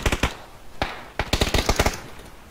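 Bursts of rapid gunfire, likely from a video game: a quick volley, a single shot, then a longer rattling burst, loud and close.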